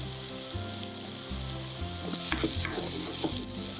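Steady frying sizzle of tomatoes and chillies in a pan, with stirring scrapes and a low hum in the background, no voices.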